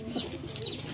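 Pigeons cooing up close, a couple of soft, throaty rolling coos overlapping in a brief burst at moderate loudness, with no voices over them.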